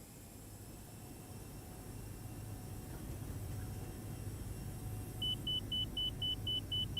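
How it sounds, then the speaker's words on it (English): Cockpit warning beeps in a Toliss A321 airliner in the X-Plane 11 flight simulator, a run of regular, evenly spaced tones starting partway through over a steady engine hum. "And there goes that annoying beeping again."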